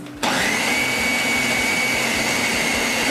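A blender switches on abruptly and whirs loudly and steadily as it mixes a chocolate tofu pie filling, its motor drone holding constant without pause.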